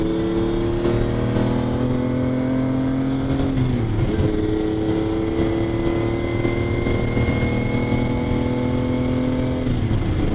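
Lamborghini Countach supercar being driven, its engine roaring steadily from inside the cabin with two gear changes where the pitch drops and climbs again, loud and continuous.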